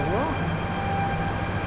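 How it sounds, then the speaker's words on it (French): The auxiliary power unit at the tail of an Airbus A330 runs with a steady, loud mechanical roar and hum, continuous for the whole moment, close by, with someone talking over it. "l'APU en anglais c'est Auxiliary Power Unit"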